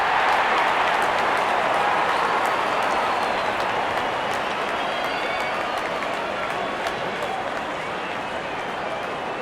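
A large cricket crowd cheers and applauds steadily as the openers walk out at the start of a Pakistan vs New Zealand match, a dense, even roar with no clear breaks.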